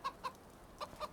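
Chickens clucking on a farm in the video game Farming Simulator 25: four short, soft clucks in two pairs, faint and without talk.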